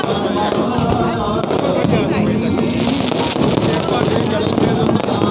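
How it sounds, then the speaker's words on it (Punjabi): Fireworks bursting continuously at a Sri Harmandir Sahib celebration for the 400th Prakash Purab, dense crackling and popping that stays loud throughout, with crowd noise and voices underneath. "ਕਿੱਦਾਂ ਦੀ ਲੱਗੀ ਆਤਿਸ਼ਬਾਜ਼ੀ?"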